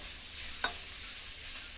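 Bitter gourd fries in a pan with a steady, faint hiss of sizzling oil, broken once by a brief stir.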